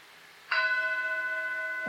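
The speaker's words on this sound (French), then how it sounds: "ressentez la présence de ce gong, le son du gong" A single gong is struck once during a meditation retreat, a clear bright strike followed by a long, sustained ringing tone that hangs steadily without fading much, in an otherwise quiet room.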